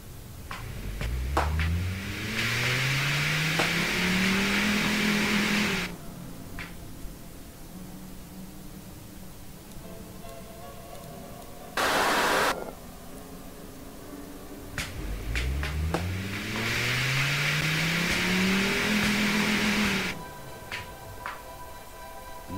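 An inline 5 engine in the Automation car tycoon game revs up twice, rising pitch sweeps to a sustained high whine before dropping back to a low idle, separated by a short burst of noise.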